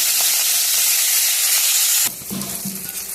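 Onions, garlic, tomato, green chillies and ginger fry in a hot pan with a loud, dense sizzle that cuts off sharply. After that come quieter clinks and stirring.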